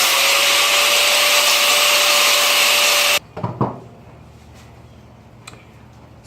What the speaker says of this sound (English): we're just going to grind it down, make it smooth